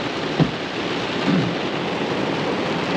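Rain pours steadily outdoors on a cattle farm, a dense loud wash of drops with a couple of soft low rumbles like distant thunder.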